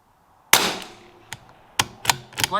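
A rifle fires Lapua Center X .22LR match ammunition: several sharp, close shots spaced irregularly, the first loudest with a trailing ring, the later ones quicker and clustered.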